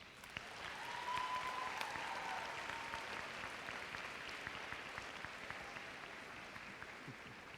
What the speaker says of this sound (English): So graduates, please take a moment and give your parents, guardians, and family members a sincere round of applause.